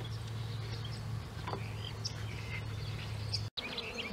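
Bees hum steadily around blooming Salvia sonomensis in a spring California native plant garden, a low continuous drone close by, with faint bird chirps in the background.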